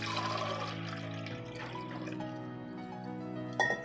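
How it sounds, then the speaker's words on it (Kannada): A glass of water is poured into a cooking pot in a home kitchen, giving a faint, steady trickle and splash that ends in a brief clink, with no voices. "ಈ ಪಾತ್ರೆ ಒಳಗೆ ನಾನು ಇದೇ ಗ್ಲಾಸಲ್ಲೇ 1 ಗ್ಲಾಸ್ ನೀರು ಹಾಕ್ಕೊಳ್ತೀನಿ"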